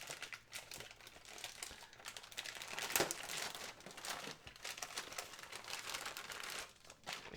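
Packaging from a Beast Wars Masterpiece Dinobot toy crinkles and rustles close up, faint irregular plastic crackles with a sharper crunch partway through.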